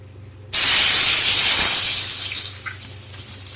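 Crushed garlic hits hot oil in a pan with a sudden loud sizzle that stays close and bright, then slowly settles into a softer crackling hiss.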